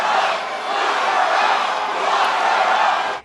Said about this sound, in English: That prompted a now familiar chant.